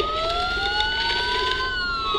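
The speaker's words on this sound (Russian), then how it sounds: "Сирены. Полиция." Police sirens wail continuously in Batman: Arkham Asylum, several overlapping rising tones held steady and fairly loud against a dense background, with no talk.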